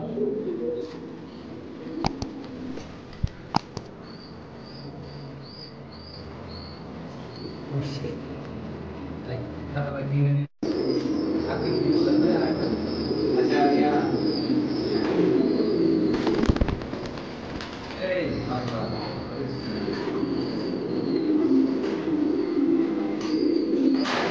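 Fancy pigeons coo softly at a large pigeon farm in Bangladesh, with a steady murmur of birds under occasional sharp clatters and people talking nearby.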